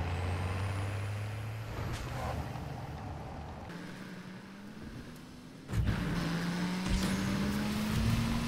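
A truck in the Call of Duty MWZ video game drives with a steady engine drone whose pitch climbs and resets as it shifts and accelerates, with a hiss like an air brake partway through and no talking.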